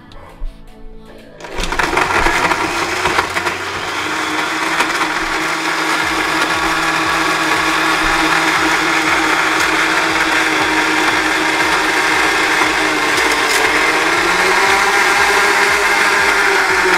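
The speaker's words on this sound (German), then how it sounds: "weil ich habe den Mixer noch nie ehrlich gesagt benutzt" An electric kitchen blender whirs loud and steady for most of the stretch after a brief quieter start, its motor drone holding constant to the end while mixing a drink.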